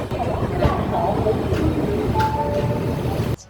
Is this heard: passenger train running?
yes